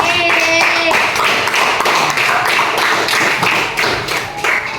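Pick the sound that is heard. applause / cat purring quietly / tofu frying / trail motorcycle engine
applause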